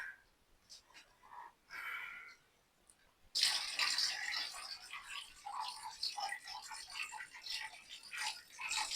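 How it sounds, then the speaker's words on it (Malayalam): After a brief voice, water starts pouring and splashing into an aquarium tank over stones, a continuous hissing gush that keeps going. "നമുക്ക് അവസാനം കുറച്ച് വെള്ളം നിറയ്ക്കുകയാണ്"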